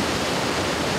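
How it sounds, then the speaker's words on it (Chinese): Shuanglong waterfall plunges down a cliff about a hundred metres high, a loud, constant broadband roar of falling water with no pause. "瀑布从百米高的峭壁上倾泻而下"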